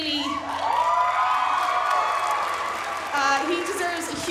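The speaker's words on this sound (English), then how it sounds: "he deserves a huge round of applause" Theatre audience cheering with whoops and shouts at a youth production of Les Misérables, a lively burst of noise that dips briefly then swells again.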